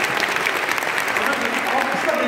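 An audience at a digital media meetup talk in Bursa gives dense, sustained applause, moderately loud, while voices speak over the clapping.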